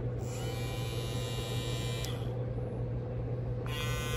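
JRL 2020t electric hair trimmer buzzing steadily with a bright motor whine over a low hum. The whine drops out midway and returns near the end, close-up with no voices.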